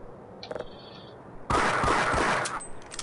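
Loud burst of automatic gunfire in the Half-Life video game erupts after a quieter stretch and keeps rattling for about a second, then trails off into scattered shots.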